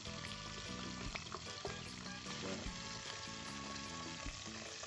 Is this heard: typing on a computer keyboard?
no